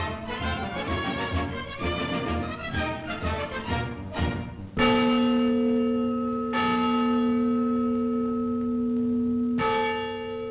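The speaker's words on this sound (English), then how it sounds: "Every day at noon, the bell rings out from the tower of the Schönberg Town Hall." The Freedom Bell, a replica of the Liberty Bell, rings from the tower of Schöneberg Town Hall in West Berlin: a busy peal of overlapping strokes gives way to several loud single strikes, each leaving a long humming decay.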